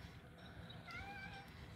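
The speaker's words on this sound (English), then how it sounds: "now is not the time to meow" A cat meows softly a couple of times in a short burst, faint and close, over a low steady background hum.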